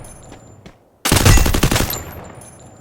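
UMP EVO submachine gun in Free Fire fires a loud, rapid burst of roughly a second, with clicks and faint mechanical sounds before and after.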